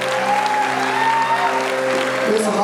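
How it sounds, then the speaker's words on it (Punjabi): Audience applause in a hall at a singing event, steady and sustained throughout, mixed with a sustained tonal hum or held musical notes beneath the clapping. "ਇੱਕ ਵਾਰ ਤਾੜੀ ਮਾਰੋ ਜ਼ੋਰ ਦੀ"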